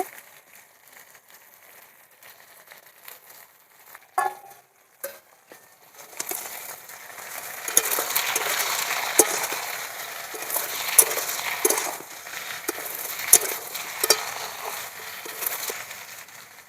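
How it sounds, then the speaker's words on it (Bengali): Ridge gourd pieces fry with already-fried potatoes in hot oil, a quiet stretch with a few knocks giving way around six seconds to a steady, louder sizzle broken by scraping stirs. "আমি আলুর সঙ্গে ঝিঙেটা ভালো করে ভেজে নেব"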